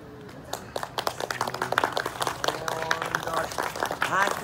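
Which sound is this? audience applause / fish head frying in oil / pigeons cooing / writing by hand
audience applause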